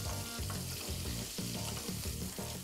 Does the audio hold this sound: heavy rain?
no